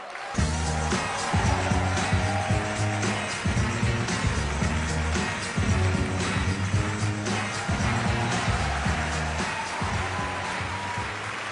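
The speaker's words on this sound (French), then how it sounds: "applaudissements pour Olivier Devenoy." Applause from a comedy show audience welcoming Olivier de Benoist on stage: continuous crowd clapping mixed with loud, pulsing music underneath.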